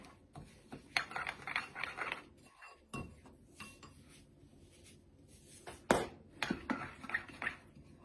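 Breadcrumbs being stirred into a farm casserole mixture in a bowl, heard as close, irregular scraping and clinking of utensil against dish, with a few sharper knocks amid a steady soft rustle.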